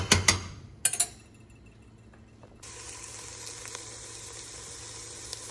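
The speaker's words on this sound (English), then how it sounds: "you want to go ahead and get all of this meat browned up" Beef browning in a pan over high heat, a few clattering stirs up front, then a steady sizzle that swells and holds through the rest, mid-distance, with no voices.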